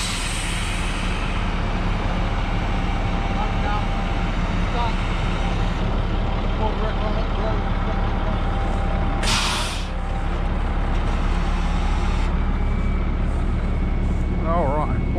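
A dump truck pulls forward in deep mud, its heavy engine droning low and steady throughout with an air-brake hiss midway, while people talk over it.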